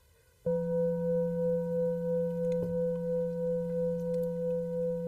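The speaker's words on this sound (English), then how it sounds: "I'm just going to play this bowl" A singing bowl is struck once and rings out with a sustained, steady hum and shimmering overtones that linger without fading.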